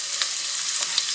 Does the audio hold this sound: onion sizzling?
yes